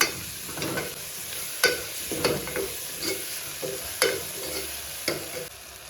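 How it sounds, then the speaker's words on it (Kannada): A utensil stirs pulao spices and paneer in a pan with light sizzling frying, giving irregular scraping strokes and soft clatters at a moderate level, with no voices. "ಈಗ ಪಲಾವ್ ಐಟಮ್ನ ಹಾಕ್ಕೊಂಡು ಚೆನ್ನಾಗಿ ಮಿಕ್ಸ್ ಮಾಡ್ಕೊಳ್ಳಿ."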